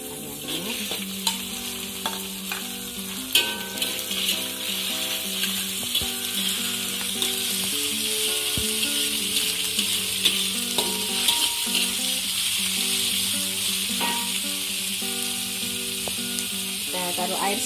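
Chicken fries in hot oil, a loud, dense, continuous sizzle with occasional spatula knocks and scrapes for capcay goreng.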